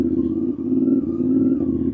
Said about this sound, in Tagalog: Guys, look at the big bikes